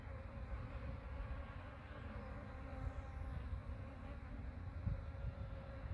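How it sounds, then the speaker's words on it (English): Close, continuous buzzing of many disturbed honeybees at a beehive, a steady droning hum that rises slightly as insects move near. "I've got a few bees that are very mad that I'm even down here bothering them."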